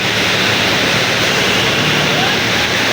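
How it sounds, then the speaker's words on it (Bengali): Loud, constant rush of rainwater gushing up from a street drain close by, a dense unbroken roar with no pauses. "এখান থেকে পানি আর উঠতেছে"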